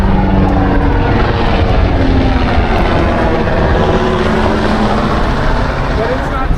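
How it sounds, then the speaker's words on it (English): A military helicopter passes overhead near the Getty property in Pacific Palisades, Los Angeles, its steady, loud rotor drone filling the scene over wind and low rumble, with no break in the noise. "chopper above here."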